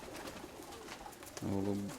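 Pigeons give a short, faint cooing call at the end, following quiet morning background noise with soft rustling.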